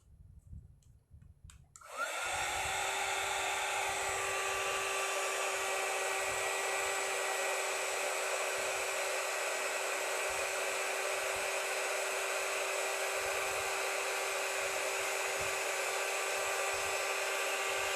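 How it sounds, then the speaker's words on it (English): A heat gun blows steadily on texture paste on a mixed media beach canvas, a loud continuous whirring hiss with a fixed high whine that starts abruptly after a quiet moment and runs unbroken to the end. "I will put the heat gun on top of it."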